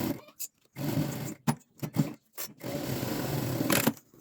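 A sewing machine stitches a fabric lining with a backstitch at the start and end, producing short whirring bursts separated by quiet pauses, close but fairly soft.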